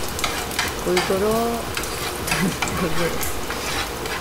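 Chili peppers stir-fry in oil for a clam cream pasta, sizzling steadily while a utensil scrapes and clatters against the pan, with a brief spoken word over the cooking.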